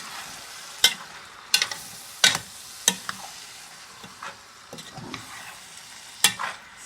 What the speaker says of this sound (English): I'm going to add my beans. Right. Add my beans. Give that good stir.